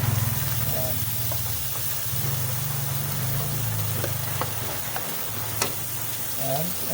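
Garlic sautés in a wok with a continuous close sizzle and crackle, a low hum running underneath and a few sharp pops, while a voice is faintly present in the background.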